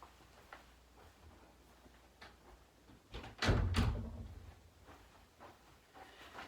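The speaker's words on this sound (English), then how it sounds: "so I need to shut the door" A door being shut indoors at home: some faint knocks and rustles, then one louder dull thud with a short rumble around the middle, then quiet handling noises.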